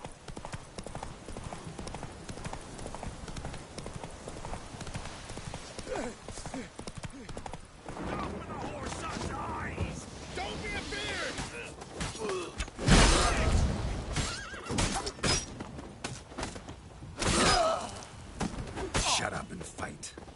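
Roach, a horse in The Witcher 3, gallops with continuous hoofbeats amid combat clatter, loud thuds and bursts of noise, with talk occurring alongside.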